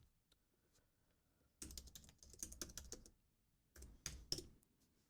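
Quick bursts of typing on a computer keyboard, clustered key clicks in two short runs separated by a pause, close and fairly quiet with no talking.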